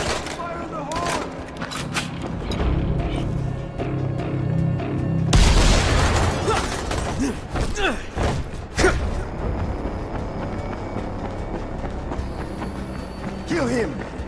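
A loud explosion bursts in the middle of a Dying Light battle, its heavy boom rising over shouting voices and scattered clatter, then fading into continued commotion.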